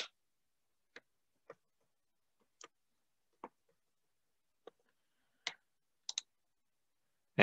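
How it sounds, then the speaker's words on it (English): Someone types an email address on a computer keyboard, with faint, sparse key clicks spaced irregularly in a quiet room. "Then you're going to type in your email."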